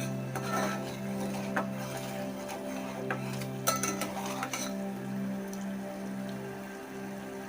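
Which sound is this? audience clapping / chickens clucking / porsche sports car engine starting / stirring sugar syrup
stirring sugar syrup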